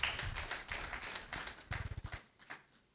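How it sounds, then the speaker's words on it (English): Applause for a speaker at a membership induction webinar, a short burst of scattered hand claps close to the microphone that thins out and fades to near silence. "let's give him a round of applause for his wonderful contribution"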